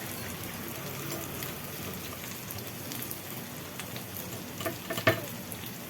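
Cumin and chili powder sauté in a pan for a chutney, making a dense, rain-like crackling sizzle close up, with a few sharper spoon taps near the end.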